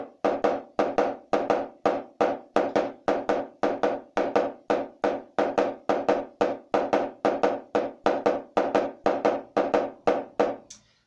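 Drum sticks strike a practice surface in a steady stick control exercise, sharp close hits in an even repeating pattern with no pauses and no voices.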